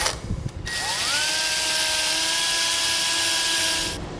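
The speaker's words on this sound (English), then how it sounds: "come back with a wire brush and a scraper, and while we have all this room, clean this up to good bare metal" Cleaning trailer metal down to bare surface with a wire brush: a motor whine rises quickly and then holds at a steady pitch under a broad, harsh hiss of bristles scrubbing, before it cuts off.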